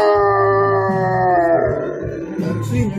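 A British sheepdog howls in a long, drawn-out rising and falling tone, mimicking a person saying "I love you," close and loud, then breaks into shorter yelping howls with a voice faintly underneath.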